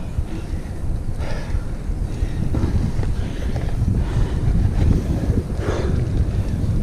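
Steady, strong wind buffeting the microphone during a road bike ride, a continuous low rumbling roar with gusty surges throughout and no talking.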